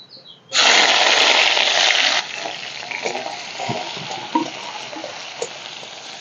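Garlic, nigella seeds and dried red chillies hit hot oil with a loud burst of close sizzling that eases after about two seconds into a steady crackle with light stirring clinks.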